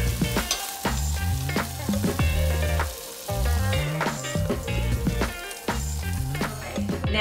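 Cubes of teriyaki tofu fry in a pan and are stirred, with a constant close sizzle broken by rhythmic scraping and clattering strokes of the utensil.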